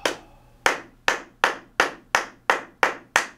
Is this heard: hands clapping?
yes